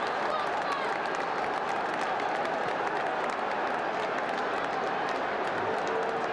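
A football crowd celebrates a goal at a Preston North End match with a loud, sustained roar of cheering and applause that stays dense and even throughout.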